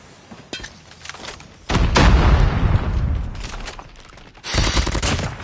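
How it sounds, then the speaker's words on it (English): A Call of Duty grenade goes off amid game combat: a sudden loud, sustained blast with rumbling debris lasting a few seconds, surrounded by scattered gunfire before and a second burst of heavy fire afterward. "Grenade out!"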